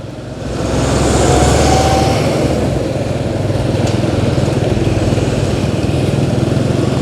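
Motorcycle engine drones steadily while riding along the Singaparna main road with a closed helmet, a continuous loud rumble with wind noise lasting throughout.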